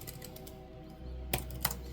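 A computer keyboard is typed on during a quick web search, a few crisp key clicks after a quiet stretch, close and faint, with no one talking.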